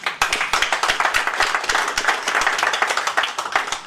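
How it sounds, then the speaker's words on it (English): An audience at a public talk on social services claps in a dense, brisk round of applause with distinct close hand claps, steady throughout and with no voices. "Can you give a round of applause for yourself to be here today?"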